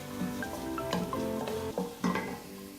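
Onions frying in oil until golden brown, a soft steady sizzle with a few brief scraping stirs and faint clinks from the pan, with light background music underneath.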